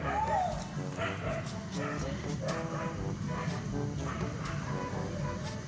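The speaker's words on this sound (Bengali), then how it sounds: "বাঘ ওই কুকুরটাকে দেখে ওরকম করছে।" Dog barking at another dog outdoors near a temple, yips and whimper-like barks scattered through a busy, continuous background of voices and street noise.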